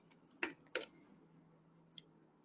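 A few sparse, quiet clicks of keys tapped on a computer keyboard, two sharper taps close together, then a faint single tick after a pause.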